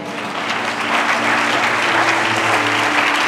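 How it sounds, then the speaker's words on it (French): A church congregation applauds continuously, a thick wash of clapping that swells a little and holds steady, close and loud with a faint murmur beneath. "J'attendais quelqu'un donner de bonnes acclamations."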